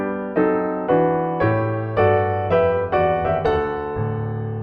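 Solo piano playing, with chords struck over a descending left-hand bass counterpoint line, about eight sustained attacks in steady rhythm, close and clear with no talking.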